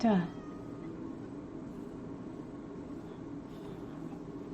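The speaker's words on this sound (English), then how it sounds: "It's a kitty." Cat meowing in the Minecraft video game, a single short meow right at the start, followed by a low steady background hum.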